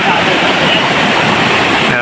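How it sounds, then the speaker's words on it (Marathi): Loud, steady rushing roar of a waterfall at Malanggad, a dense continuous wash of noise with no pauses. "मस्त धबधबा वाहतोय"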